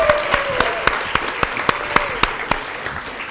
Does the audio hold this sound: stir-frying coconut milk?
no